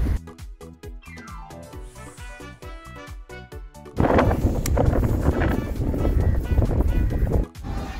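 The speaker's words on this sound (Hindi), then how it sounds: "ये दूसरी फेरी उस तरफ से इस तरफ आ रही है" A ferry crossing open water near Madh Island, with a steady broadband rush of wind buffeting the microphone and a low engine drone carrying on throughout, loudest in the second half, with no talk.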